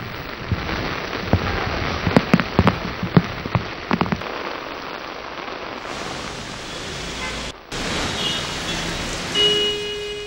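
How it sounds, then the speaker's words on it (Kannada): Heavy monsoon rain pours down in the Western Ghats foothills near Kollur, a dense, loud, continuous hiss with scattered sharper drops and splashes near at hand. "ಕೊಲ್ಲೂರು ಭಾಗದ ಪಶ್ಚಿಮ ಘಟ್ಟದ ತಪ್ಪಲಿನಲ್ಲಿ ಅತಿ ಹೆಚ್ಚು ಮಳೆ ಬೀಸ್ತಾ ಇದೆ."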